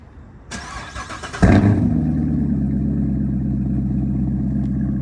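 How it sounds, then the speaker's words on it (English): A car engine cold-starting up close: a starter cranks briefly, then the engine catches with a loud burst and settles into a steady, rumbling fast idle. "Man, now for a little cold start."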